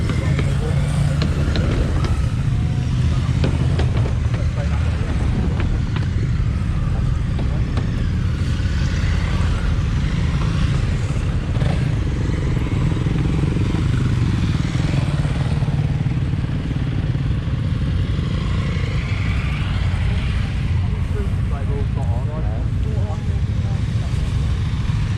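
A steady roar of Honda motorcycles riding past during a festival ride out, engines droning continuously with a loud crowd and outdoor bustle, people talking throughout.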